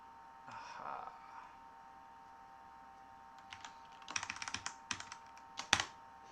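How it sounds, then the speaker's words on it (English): Computer keyboard keys clicked during a trading session, starting as faint scattered taps, then a dense burst of quick close-up clicks with a sharper final cluster, heard alone without talk. "You cannot tell by the button clicking that you hear"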